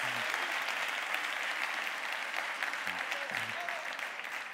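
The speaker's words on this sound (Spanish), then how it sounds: "quiero que deis un fortísimo aplauso" An audience at a technology conference talk applauds, a dense, steady clapping from a large crowd that carries through the whole clip.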